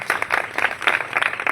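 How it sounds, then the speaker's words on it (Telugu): An audience clapping at a gathering, a loose patter of hand claps in uneven bursts, moderately loud with a few voices underneath. "గట్టిగా చప్పట్లు కొడదాం."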